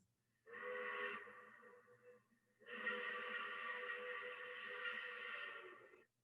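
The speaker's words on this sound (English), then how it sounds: "A steam whistle." A steam whistle sounds faint and far off from the Stromness whaling station on South Georgia, giving two long sustained blasts with a short gap between them.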